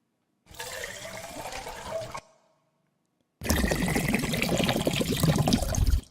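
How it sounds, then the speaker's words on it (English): A water-filled bottle is flipped fully upside down and bubbles as it glugs and empties, in two close, continuous bursts split by a brief silence. "fill it up with water and turn it all the way upside down. It gives you like this bubbling effect."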